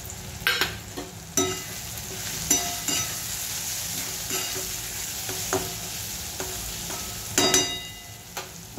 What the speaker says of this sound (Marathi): छानपैकी आपण तेलामध्ये याला परतलेला आहे